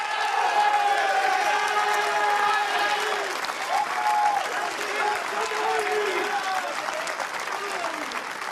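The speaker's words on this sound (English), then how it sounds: "Huge applause for David Tonizza" A large crowd at an F1 Esports Pro Series championship event applauds and cheers, sustained clapping under whistles and shouts, with a commentator's voice talking over it at times.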